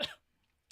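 One short, close cough at the start, then near silence.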